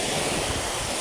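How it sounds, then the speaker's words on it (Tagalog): Big storm-driven ocean waves on the shore in Quezon Province roar as a dense, continuous wash with wind noise, loud and close, with no voices. "Lalaki ng alon at pumasok na ang bagyo sa Kabisayaan mga katambay"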